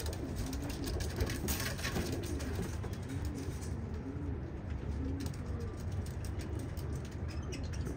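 Pigeons cooing, soft repeated low coos in a slow rhythm over a constant background hiss, fairly faint and without any talking.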